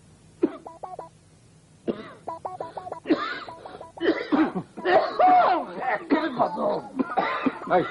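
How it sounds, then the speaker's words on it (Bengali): Staged coughing in a classic comedy drama: a few short throat-clearing coughs, then bursts of forced coughing mixed with voices and chuckling, close and fairly loud. "যতই আটকাই কাশি ততই বাইরে আসে"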